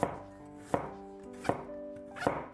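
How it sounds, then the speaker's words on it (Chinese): A knife cuts a small piece of fresh ginger into thin slices on a cutting board, four crisp, evenly spaced chops about three-quarters of a second apart, close and fairly quiet, with no talking. "一小块生姜先切成薄片，"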